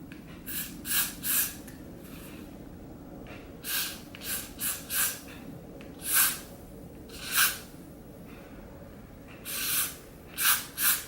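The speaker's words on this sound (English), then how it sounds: "All right, so I'm gonna go in with my spray." Short hissing spray bursts from a hairspray can onto a lace front wig hairline, repeated about a dozen times with pauses in between, close by and moderately loud.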